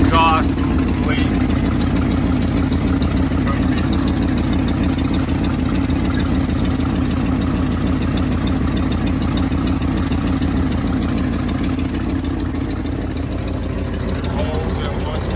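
A 1978 Jeep J20 engine idles steadily with a low, pulsing exhaust chuff from an exhaust leak, loud and close for the whole stretch, with a brief voice near the start.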